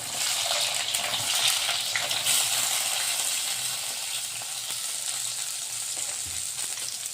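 Sliced onions and green chillies frying in a pan give a continuous bright sizzle and hiss, loudest at first and then easing slightly, with soft scattered crackles and no talking.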